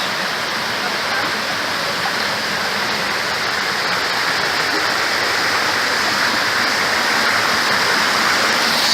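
A mineral-rich waterfall in the Philippines, its loud, constant roar filling the whole stretch as an even, close rush of falling water without pause.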